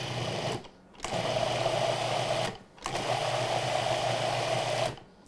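A food processor pulsing oat cookie dough for homemade oatmeal creme pies, its motor whirring loudly in three steady runs split by short silent gaps, close and without speech.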